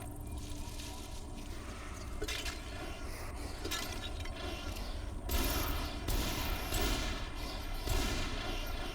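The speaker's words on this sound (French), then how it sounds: "Il reste combien de fusils d'assaut? 119 munitions, putain, ça part vite." Sustained assault rifle fire in the game Tomb Raider Underworld, a dense continuous fusillade with harsh crackling bursts that swell louder midway, steady and unbroken with no voices.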